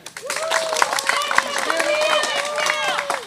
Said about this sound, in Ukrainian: Старт другої команди під бурхливі аплодисменти.